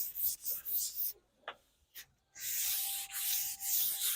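Hand sanding of wooden boards for a wine rack: rhythmic scratchy strokes, close and fairly quiet, broken by short pauses and a brief lull before the rubbing resumes steadily.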